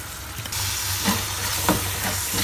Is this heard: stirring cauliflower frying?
yes